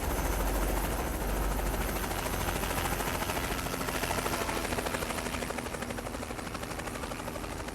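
Helicopter flying overhead in a trucking video game set in Oregon, a steady loud rotor chop filling the whole stretch and slowly fading a little toward the end, with no voices.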